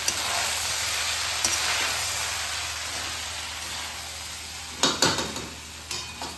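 Jeera rice is stirred gently with a ghee tempering, giving a soft continuous sizzle and hiss from the hot pan, then a few sharper scraping clinks near the end, with no speech.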